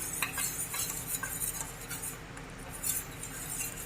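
A spoon stirs cornflour slurry into a pot of restaurant-style chicken soup with boiled vegetables. Soft continuous swirling and scraping is broken by light metallic clinks against the pot, close and fairly quiet.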